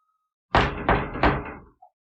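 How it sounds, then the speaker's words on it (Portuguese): Three firm knocks on a door in quick succession, loud and close, each with a short resonant decay, followed by a brief small tap before silence. "Bater na porta."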